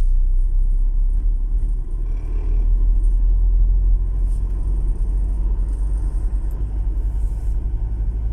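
Trucks and other traffic passing on a highway near a farm, a steady heavy low rumble of engines and tires rolling by close up for several seconds, with no talking.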